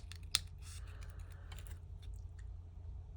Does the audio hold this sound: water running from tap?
no